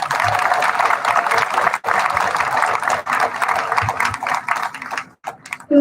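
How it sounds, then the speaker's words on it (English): A large audience at the 2021 Doig Intermediate School commencement ceremony gives a loud, sustained round of applause, a thick, even roar of clapping hands that holds steady before thinning out near the end. "But a huge round of applause to all of you one last time."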